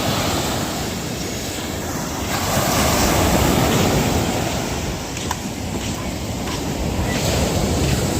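Small sea waves wash and break along a calm shoreline in a steady, continuous surf wash, moderately loud and close, with wind buffeting the microphone throughout and no voices.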